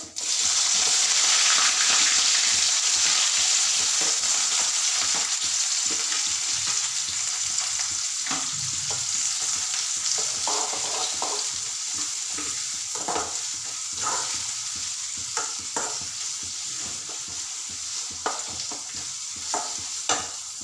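Mustard seeds, cumin and onion sizzle in hot oil, making a steady loud fry hiss with scattered crackles and pops, while a spoon scrapes and stirs the pan through the whole stretch; nobody speaks.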